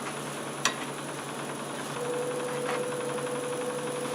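A wood lathe turns a catalpa bowl blank at about 680 RPM with a faint, steady mechanical hum. A single sharp click comes early, and the hum grows slightly louder partway through.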